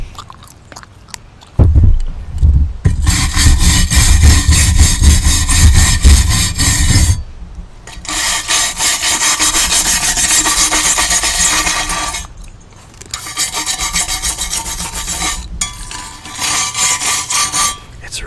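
A wire brush scrubs the surface of carbon steel to strip oxide before welding, in long loud rasping strokes separated by short pauses, close and with no talk over it.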